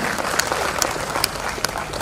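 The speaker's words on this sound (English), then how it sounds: "All our make a big claps. Big applause for Lakshmanji for putting this idea." An audience at a university event gives a steady round of applause, a dense, even wash of clapping at moderate level with a few sharper individual claps standing out.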